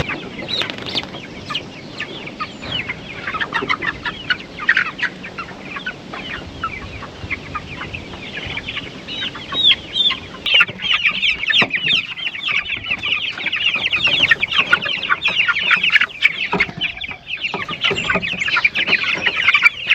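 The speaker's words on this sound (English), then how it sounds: "So this batch of chicks was ready to come outside." Roughly four-week-old broiler chicks cluck and cheep steadily outdoors, a dense chorus of many birds close by that grows busier and louder in the second half, with no talking.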